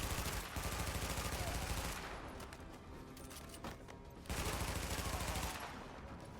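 Gunfire in The Division, the SMG and incoming enemy shots rattling in dense bursts under steady game ambience, heaviest at the start and again near the end, at moderate level.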